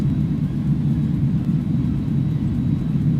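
Airbus A300-600 in the X-Plane 11 flight simulator rolling out after landing, a steady, loud low engine rumble and whir that holds without break or voices.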